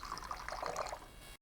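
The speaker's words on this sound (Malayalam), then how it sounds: "1 കപ്പ് വെള്ളം അതിലേക്ക് വെക്കുന്നുണ്ട്" A short, soft splash of water poured into a container, a brief trickling burst that ends abruptly.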